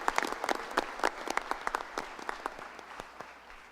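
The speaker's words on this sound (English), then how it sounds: "let's give Sharonville Elementary School one more round of applause" Scattered applause from a modest audience at a school board meeting honoring Sharonville Elementary School, a few distinct claps over a soft, thin patter, moderately distant and fairly quiet, with no talk over it.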